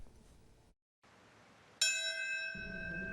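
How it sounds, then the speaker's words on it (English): A single bell strikes loudly and rings on with a long, bright, sustained tone at a September 11 memorial service in Lower Manhattan, following a brief silence and low background rumble. "Bells tolled, marking the exact moment 23 years ago the first plane crashed into the World Trade Center."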